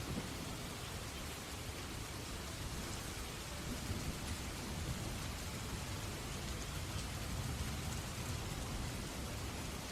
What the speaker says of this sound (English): listen to the rhythm of the rain tapping against the window pane